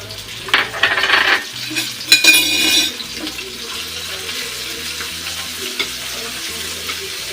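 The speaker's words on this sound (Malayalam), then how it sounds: "അപ്പോൾ ഞാൻ സൺഫ്ലവർ ഓയിൽ ഒഴിച്ചിട്ട് അത് ഞാൻ ചിക്കൻ ഒന്ന് വറുത്തെടുക്കുകയാണ്" Boiled chicken sizzles in sunflower oil in a pan over a high flame, with a steady close frying crackle and a few stirring scrapes near the start.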